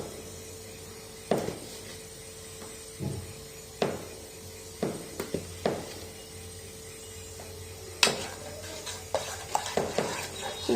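About 700 grams of milk with two or three spoons of milk powder stirred on the stove, a spoon striking and scraping the pot in irregular clinks and knocks over a low background simmer, no voices.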